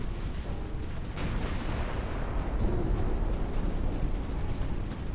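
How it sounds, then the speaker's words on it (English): Heavy explosions from torpedo hits in the naval warfare game Ultimate Admiral: Dreadnoughts, a continuous low booming rumble that swells and stays loud throughout, with no voices. "Oh, that was some more torpedo hits."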